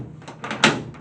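A car door latch being refitted on a 1957 two-door converted to a Nomad; one sharp latch click-clunk stands out in the middle among softer handling taps, close by with no talk.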